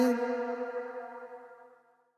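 A single sung tone rings out and repeats as a fading echo tail, harmonically rich and decaying smoothly over about two seconds.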